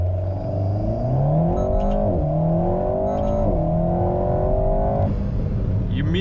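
An Alpine A110 with RaceChip tuning, running in race mode at 303 horsepower, accelerates hard through the gears. Its engine rises steadily in pitch, with a brief dip at each upshift, and stays loud and close the whole time.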